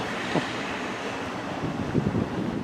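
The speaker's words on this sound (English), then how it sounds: "again it's a bit windy" Wind buffets the microphone in a steady rumbling roar, with brief gusts swelling louder throughout.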